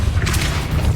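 A Depulso force spell is cast in Hogwarts Legacy, giving a loud, dense booming burst with a whooshing rush that fills the whole short moment.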